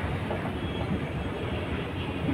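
An underground metro train on the Howrah to Esplanade line rumbles steadily nearby, a continuous low roar of rail noise filling the whole stretch with no talking.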